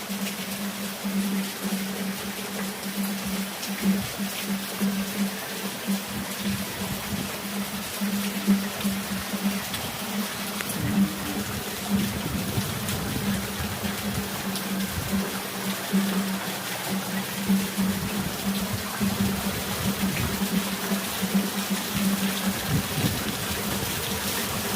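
Heavy rain falls in Junagadh, Gujarat, as a steady, dense wash of noise that continues without a break, with a low hum running underneath.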